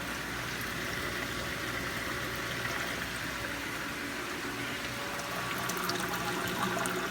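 Continuous trickling and gurgling of running irrigation water, steady and close, with a faint mechanical hum underneath.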